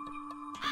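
A crow caws in the video game The Cat Lady, a brief rough call at the very end that follows softer ticks over a steady tonal hum.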